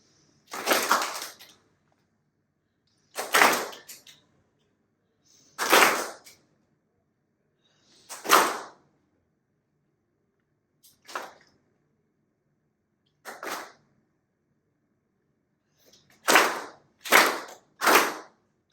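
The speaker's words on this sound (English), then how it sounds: "when my hand comes down, I would like you to clap." An audience claps together on a conductor's downbeat during an orchestra-conducting exercise, nine separate unison bursts spaced a few seconds apart with silence between, the last three coming in quick succession.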